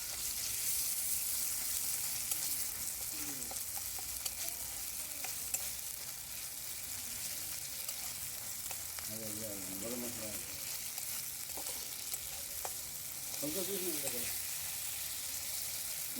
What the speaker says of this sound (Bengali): এবার কষিয়ে নিচ্ছি ভালো করে।